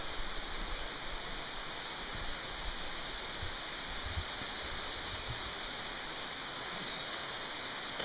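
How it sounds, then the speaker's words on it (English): A small waterfall, running low with little water in the dry season, gives a steady, even rush of falling water, soft and continuous throughout with no other sounds standing out. "And this waterfall coming off"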